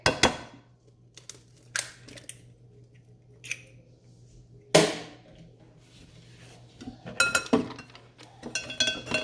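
An egg knocked and cracked into banana cake batter in a kitchen: a few sharp clinks and taps against a bowl, spaced irregularly over a faint steady hum, with a brisker cluster of clatter near the end.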